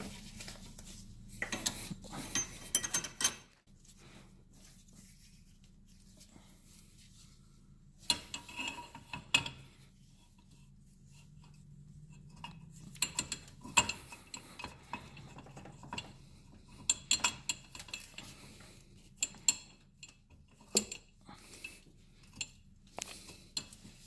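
Tie rod end on a 2002–2006 Nissan Altima being tightened with a hand tool, faint close ratcheting clicks in irregular bursts separated by quiet gaps, with occasional metallic knocks and no voices.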